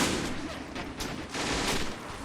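Gunfire from a World War II battle around Foy during the Battle of the Bulge in Men of War: Assault Squad 2, dense overlapping shots and bursts forming a steady fusillade with louder cracks near the end.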